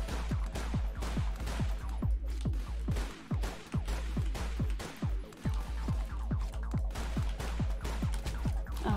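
Rapid gunfire in the indie video game Hellfire Poncho, a dense, steady stream of sharp synthetic shots in regular bursts over looping background music, with no speech.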